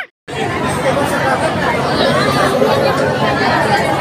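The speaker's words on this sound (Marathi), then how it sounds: "बघा किती गर्दी आहे, एवढ्या गर्दीत आम्ही लाईनला थांबलोय." Dense crowd of devotees queuing at the Tuljapur temple, a steady loud hubbub of overlapping chatter that fills the space close around, continuous after a brief silent start.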